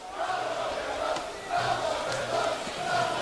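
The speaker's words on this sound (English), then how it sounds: "And the crowd trying to lift their home team here." Spectators at a South Melbourne vs Olympia National Premier Leagues elimination final football match chant in rhythmic waves to lift the home team, a distant, steady crowd roar.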